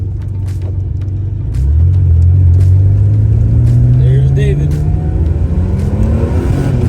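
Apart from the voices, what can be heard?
Porsche accelerating with turbo boost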